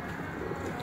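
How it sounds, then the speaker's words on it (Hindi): A Teddy pigeon gives a short, soft coo, a low murmuring call heard close and alone over a faint background. "इंतहाई खूबसूरत कबूतर,"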